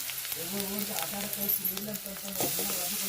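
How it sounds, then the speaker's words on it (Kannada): Beetroot pieces frying in hot oil with turmeric in a pan, a steady sizzle under a low voice speaking, with occasional stirring clatter. "ಈಗ ಈ ಬೀಟ್ರೂಟು ಫುಲ್ಲು ಇದು ಎಣ್ಣೆ ಒಳಗನೆ ಫ್ರೈ ಆಗ್ಬೇಕು"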